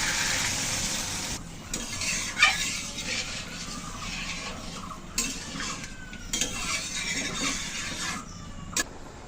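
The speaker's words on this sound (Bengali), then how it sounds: "তরকারিতে খুব সুন্দর ফুটতে শুরু করেছে" Bengali curry after water was poured into the cooked-down spices, a bubbling, sizzling pot with intermittent stirring and utensil clanks against the pan, no voices.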